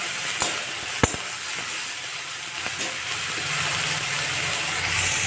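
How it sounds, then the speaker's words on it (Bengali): Shak, leafy greens, sizzling in a pan on a home kitchen stove as a steady broadband hiss, with a couple of sharp pops and clicks early on and no talking. "শাক ভাজাটা করে নিচ্ছি"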